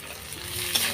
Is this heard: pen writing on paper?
no